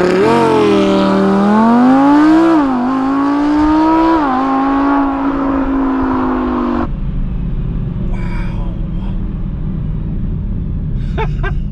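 An Audi R8 V10 Plus engine roars hard as it launches from a standstill, pitch climbing through quick gear changes, then drops to a lower rumble as the car moves away.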